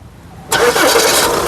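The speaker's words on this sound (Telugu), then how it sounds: "ఈ కార్ సింగిల్ సెల్ఫ్లో స్టార్ట్ అవుతుందా లేదా అన్న చూపిస్తాను" A 2015 Audi A6 S Line engine cranks and catches on a single start after a moment of quiet, then settles into a steady, loud running hum close by.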